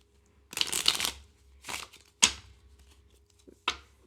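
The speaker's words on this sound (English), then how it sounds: "let's see how it takes to riffle shuffling" Lenormand cards, a short, lightweight deck, being riffle shuffled up close: several quick fluttering riffles with brief pauses between them and no voices.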